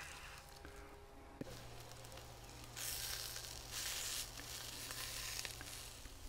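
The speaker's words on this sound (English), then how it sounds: "I'm going to give these sausages just a couple more minutes, then I'll add the eggs." Sausages and potatoes sizzle in a skillet for an outdoor breakfast on a deck, a steady close frying hiss with brief louder surges of crackle and no talking.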